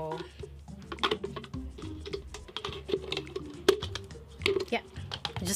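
Scissors snip and crunch through a plastic water bottle in a series of sharp, irregular cuts, up close, with someone talking softly in between.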